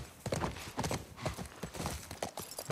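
Steady clip-clop of horse hooves in The Last of Us Part I, a rhythmic run of close, fairly loud hoof strikes on hard ground carrying through the whole moment, with no talking.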